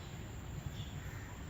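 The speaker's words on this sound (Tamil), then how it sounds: "காக்கா வந்து உள்ளே கொஞ்சம் உட்காந்துக்கும்" Crows caw at a zoo in Malaysia, their calls set against a steady broadband background of outdoor noise through the short stretch.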